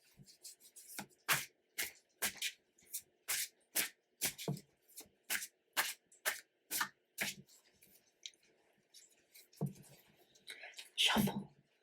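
Tarot cards shuffled by hand in a quiet room, a quick series of about a dozen crisp riffling bursts in steady rhythm, close and clear, followed by a few softer handling sounds.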